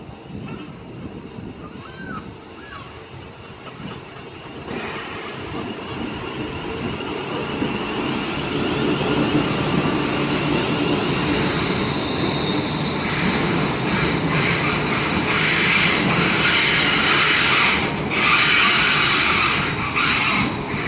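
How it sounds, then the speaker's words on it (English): A TransPennine Class 350 Desiro electric train pulls out of Carlisle station on the West Coast Main Line, its rolling noise building from quiet to a steady loud rumble with faint wheel squeal and rail clatter close by. "35410, departing for the 1333 Transpennine 350 Desiro service to Manchester Airport."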